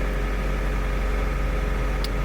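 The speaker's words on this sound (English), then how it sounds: "The engine doesn't sound that great," A 2023 Mercedes-Benz GLC 300 SUV engine runs with a steady, droning hum in sport mode, constant and unbroken with no talking over it.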